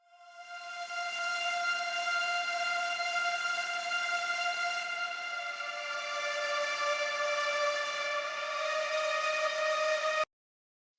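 A song mix layers a synth, a pad, a violin and piano into one sustained tonal bed that holds steady for about ten seconds before cutting off abruptly.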